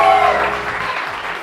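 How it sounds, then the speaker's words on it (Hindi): Studio audience applauding the host of a TV morning show, a dense wash of clapping that starts strong and tapers slightly over a second and a half, with tonal music or voice traces early on. "उनके लिए बहुत सारी तालियां"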